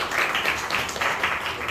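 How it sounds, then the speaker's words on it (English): An audience at a school farewell for interns claps in a short burst of applause, moderately loud and fairly steady, with voices mixed in. "Give me a round of applause, please."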